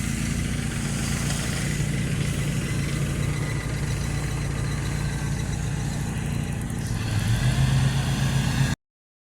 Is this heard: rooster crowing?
no